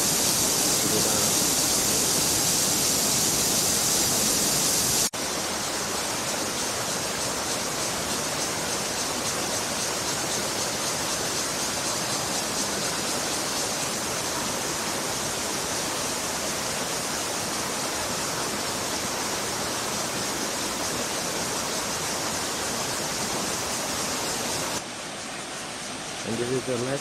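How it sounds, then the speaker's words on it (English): The Xiao Wulai waterfall in Taoyuan, Taiwan, roars with a constant broadband rush of falling water heard up close, steady throughout with a brief change in texture near the end. "Moving along the waterfall here."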